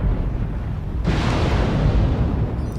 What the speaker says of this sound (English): Missiles go right into a wall.